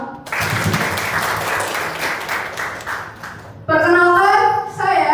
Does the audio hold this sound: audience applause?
yes